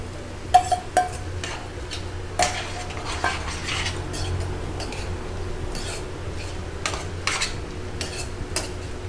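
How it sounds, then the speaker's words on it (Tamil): Maida flour batter goes into a pan of capsicum paneer gravy and gets stirred, a spoon scraping and clinking against the metal pan in irregular knocks over a low, steady cooking hiss. "இப்போ வந்து நம்ம கரைச்சி வச்சுருக்க மைதா மாவு விட்டுடலாம்."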